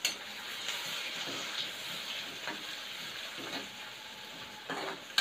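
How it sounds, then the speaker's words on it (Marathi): Curry leaves sizzle in hot oil with a continuous crackling hiss. Several soft stirring scrapes and clinks come through it, all fairly close and heard without any talking. "यात मी एक कढीपत्ता टाकते"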